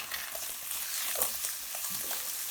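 Melting cheese stirred in a frying pan with breakfast leftovers: a soft, faint sizzle runs continuously, with a few gentle scrapes from the stirring utensil.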